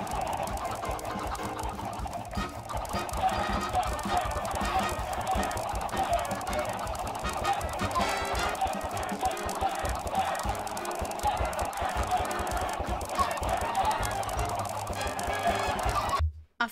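Dense, steady clamor of many chickens clucking and squawking together in a chicken-breeding video game, loud and continuous throughout with no talking.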